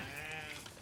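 Sheep bleating on a Tudor-era farm, a steady wavering bleat held for just under a second, close and fairly quiet with no talk over it.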